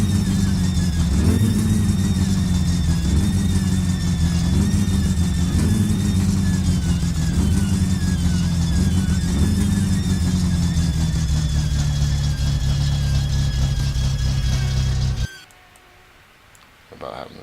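A car engine in the video game My Summer Car runs roughly with the choke out, a loud steady low rumble with uneven pulses that cuts out abruptly near the end, leaving near silence. Someone speaks over it.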